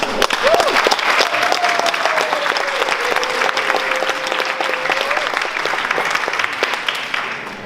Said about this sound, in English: Let's give him a round of applause for the end.